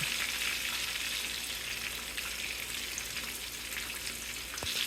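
Chicken fried steak frying in oil, a steady, dense sizzle that holds evenly throughout, close and fairly loud, with no talking.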